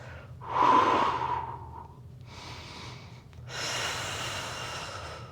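During a Pilates mat exercise with a fitness circle, close breathing sounds form a strong breath in, a softer breath, then a long breath out, all heard alone.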